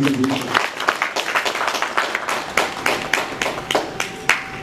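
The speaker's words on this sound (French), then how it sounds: "Applaudissez pour elle, Madame." A small audience at a gathering claps for a woman, starting with a brief voice and then scattered, uneven hand claps with distinct individual slaps, fairly close.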